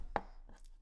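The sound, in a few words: smashing an onion for chicken broth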